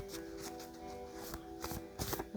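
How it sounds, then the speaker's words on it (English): Tarot cards are riffled and shuffled close up in several quick bursts, crisp flapping with short pauses between. "Alright, so let's shuffle again."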